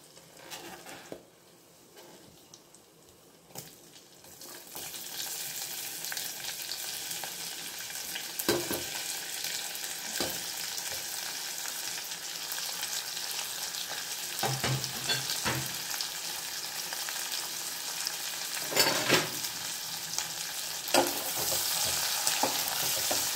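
Chopped onion frying in oil with a spoonful of cumin, a quiet start followed by a loud steady sizzle, punctuated by repeated scraping stirs of a spoon in the pan.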